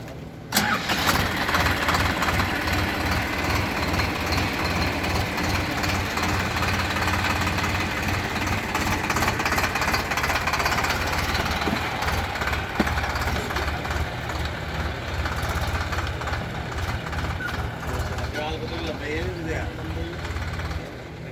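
A Massey 8055 50 hp tractor engine starts and settles into a steady, loud mid-pitched idle that runs throughout, with a voice speaking over it.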